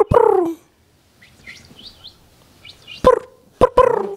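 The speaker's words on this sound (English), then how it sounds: "You got the birds coming in." Bird chirps play in a music track as a short run of bright tweets between louder bark-like bursts, fairly close and clear.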